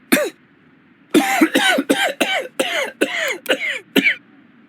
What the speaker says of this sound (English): I need something for a sore throat and can't stop coughing.